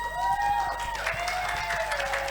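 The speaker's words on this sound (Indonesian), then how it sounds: "Tepuk tangan untuk 3 penanya pada" An audience at an interactive campus dialogue applauds three questioners, the clapping sitting under a sustained tonal hum and some crowd murmur.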